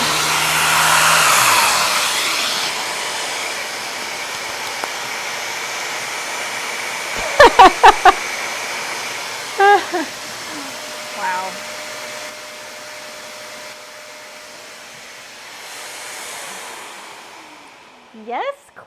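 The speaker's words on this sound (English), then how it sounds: "Even hear me if I try and talk with a sander?" An electric sander running steadily and loudly on a mid-century modern teak dining set, a continuous whirring drone through the opening seconds, then quieter stretches broken by short clunks and bumps.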